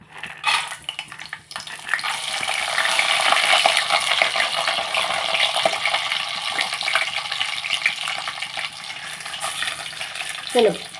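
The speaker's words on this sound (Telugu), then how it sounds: "ఇప్పుడు మనం పోపు వేసుకుందాం ఇదిగోండి పల్లీలు వేసుకుందాం ఫస్ట్ మినప్పప్పు" Peanuts and urad dal go into hot oil as tempering for semiya upma, producing a bright, crackling sizzle that swells after a brief pause and carries on steadily, with light clinks of a pan and spoon.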